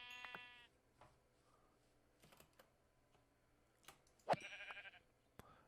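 Minecraft sheep, in a modded game, bleat twice: a short bleat at the start and a longer wavering one near the end. Soft keyboard and mouse clicks tap between them.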